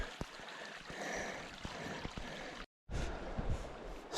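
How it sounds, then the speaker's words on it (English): Water flows on the East Branch of the Deerfield River in the Somerset Wilderness in May. The soft, hissing wash is faint and continuous, with a brief silent gap and a few small knocks. "And there's the flow of the river."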